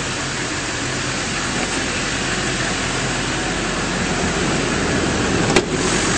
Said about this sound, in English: Under the hood, very clean engine bay, running nice and smoothly